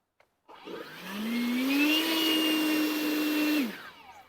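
A Ridgid leaf blower on its turbo setting spins up with a rising whine, holds a loud, steady, breathy roar of rushing air for a couple of seconds, then winds down quickly.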